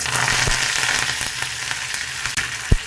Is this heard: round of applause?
no